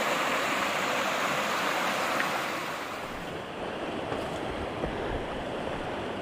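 Clear, deep water rushes steadily along Laurel Fork creek near the falls in Tennessee, a continuous broadband wash close by with no voices.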